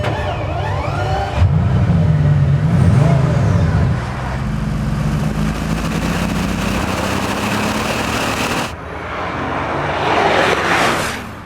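Special classic car starting off for a ride, its mid-range engine loud and close, revving and accelerating away with shifting tone and road noise.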